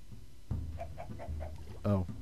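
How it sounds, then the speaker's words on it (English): Chickens cluck in a hardcore survival video game, a few short rhythmic clucks and one louder squawk near the end, fairly close and clear over a low game ambience. "Where are these chickens? I hear them."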